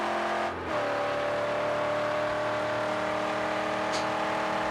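Close, steady engine drone from a car in the Mad Max video game, a brief dip then a sustained rising hum as it revs and cruises, loud and continuous with no voices.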